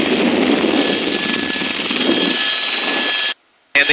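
Helicopter in flight during a hoist operation, a loud steady broadband engine and rotor roar filling the first three seconds before cutting off briefly, then returning at the end.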